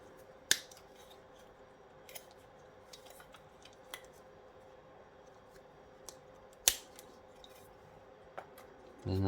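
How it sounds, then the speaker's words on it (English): Scissors snipping wires from the light fittings inside a scrapped robot vacuum cleaner, a few sharp isolated clicks spaced seconds apart against a quiet room, ending in a brief louder rustle. "There's a couple of lights in there. We don't need them, so I'll snip the wires off."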